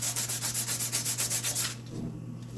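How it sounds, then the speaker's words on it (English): Sandpaper rubs back and forth on a wooden spice rack in a fast, even rhythm of about a dozen close strokes, then stops, leaving a low room hum. "And then I'll go back with my sandpaper"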